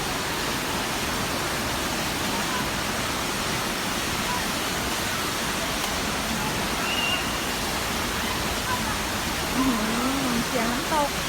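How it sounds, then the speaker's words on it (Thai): Waterfall at Huai Luang in Ubon Ratchathani, Thailand, a loud, close, continuous rushing roar of falling water that never lets up, with a faint voice briefly heard near the end. "เสียงน้ำตก"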